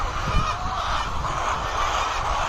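A dense, continuous clamor of many laying hens clucking and calling together in cages on a poultry farm, close and steady throughout.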